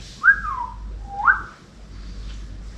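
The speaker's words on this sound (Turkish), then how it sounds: "Burada çok ıslık çalan bir papağanımız var." Two clear rising-and-falling whistles about a second apart, bright and fairly close, the calls of a parrot with quiet in between.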